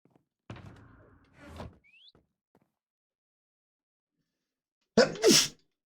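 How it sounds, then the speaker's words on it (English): A person sneezes, one loud sharp burst near the end after a quiet stretch with a few soft bumps and clatters earlier. "I'd mute for those sneezes"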